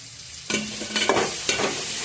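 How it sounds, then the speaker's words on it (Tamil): Chopped vegetables frying in hot oil with onion and tomato in a pan for a mutton curry, a steady sizzle broken by several scraping stirs of a spoon, close and clear with no talk. "நல்லா அந்த எண்ணெயோட இந்த காய்கறியும் நல்லா ஃப்ரை ஆகணும்."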